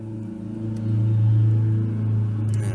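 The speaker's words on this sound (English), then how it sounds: "a fire truck just went by my house" A fire truck drives past a house, heard as a low engine rumble that swells, holds steady at its loudest for about a second, then slowly fades, with no talking.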